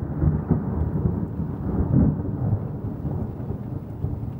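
Thunder from an intense storm rolls and rumbles loudly and continuously, with deep booming peaks early and around the middle, steady rain noise underneath, and no voices.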